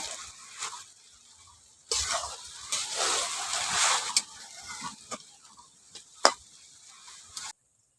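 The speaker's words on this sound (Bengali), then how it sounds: "জলটা দিয়ে ভালো করে নাড়াচাড়া করে এটাকে আরও একটু সময় ফুটিয়ে নেব" A spoon stirs egg biryani masala in a pan after water is added, giving soft wet scraping strokes over a bubbling sizzle, with a few sharper knocks against the pan. It is moderately close, and no one speaks.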